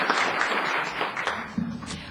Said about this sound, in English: Applause for Peter, please